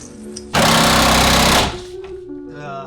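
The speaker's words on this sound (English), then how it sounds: "So we're gonna use a gun, hit them real quick, and then hopefully get it off." A pneumatic impact gun hammers loudly on rusted front bolts of a BMW E36 in a garage, one sustained burst of about a second, then a quieter shop background afterward.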